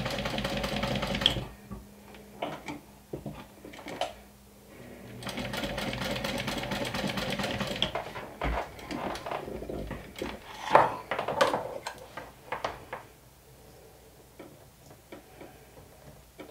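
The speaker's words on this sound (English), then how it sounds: "right now I'm sewing through 8 layers of thick vinyl" A sewing machine stitches through eight layers of thick vinyl for a saddle-style crossbody bag, giving a steady mechanical hum with rhythmic ticking and short stops and starts, close up and without talk.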